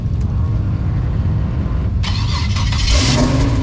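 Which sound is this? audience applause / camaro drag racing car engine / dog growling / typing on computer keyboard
camaro drag racing car engine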